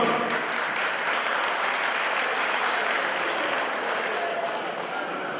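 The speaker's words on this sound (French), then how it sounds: "Applaudissez encore plus fort pour qu'il vous entende." A ceremony audience in Côte d'Ivoire claps loudly and steadily, a dense, unbroken wash of hands that holds level for several seconds and barely fades at the end.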